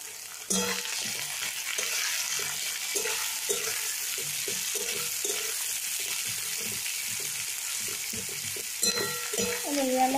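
Onion added to hot oil with whole garam masala, bay leaf and dried red chilli for chicken kosha, a steady sizzle with repeated stirring scrapes throughout, ending with a brief clatter.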